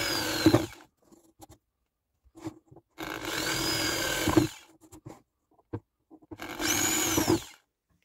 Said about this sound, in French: donc maintenant, place au perçage.